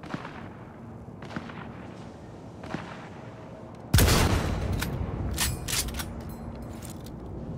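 Gunfire in Cyberpunk 2077: a few scattered shots, then a sudden loud burst of rapid firing with sharp cracks that continues through the rest.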